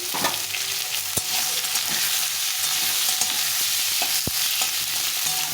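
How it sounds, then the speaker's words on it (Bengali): Pumpkin pieces fry in a hot pan for a Bengali shukto while being stirred, giving a steady, close sizzle with a couple of sharp scraping knocks from the spoon. No one speaks. "কুমড়োগুলোকে একটু ভালো করে ভাজতে নিতে হবে লাল লাল করে"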